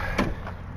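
A detached off-road vehicle door is rolled across a workshop floor, giving a short bump and scrape followed by a softer second knock over steady low background noise, with no speech.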